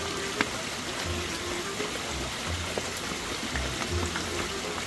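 Steady rain falling outdoors, a continuous soft hiss and patter throughout with a few faint drips, while a voice talks quietly in the background.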